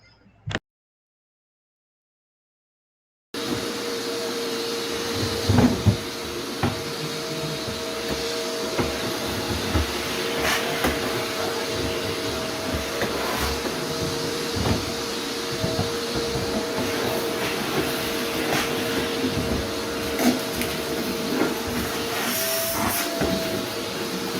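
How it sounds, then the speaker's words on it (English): A steady, broadband vacuum cleaner drone runs continuously after a brief silence, with faint clicks and bumps as it moves. "I had to put in that clip of vacuuming."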